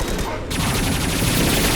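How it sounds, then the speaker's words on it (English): A Mass Effect 2 high-impact gunshot cracks out over dense, loud battle noise, a sharp burst followed by continuous rattling gunfire and rumble with no clear pauses. "Firing a high-impact shot."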